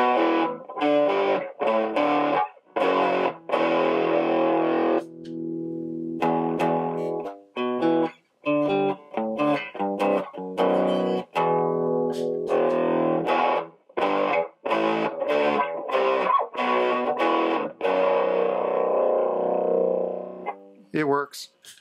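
A heavily distorted electric guitar through a distortion pedal plays choppy chords and riffs with abrupt stops and starts, loud and buzzing throughout.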